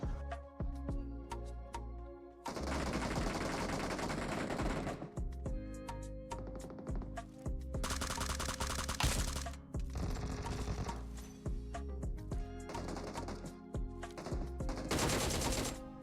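Rapid bursts of gunfire in a battle-royale style shooter match, loud and dense, with repeated automatic volleys and short pauses over a steady bed of game sound.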